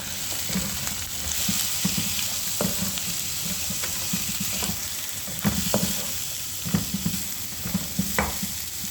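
Ginger and onion fry in a pan for a creamy vegetable dish with mustard seeds and curry leaves, giving a steady close sizzling hiss broken by scattered stirring scrapes and taps.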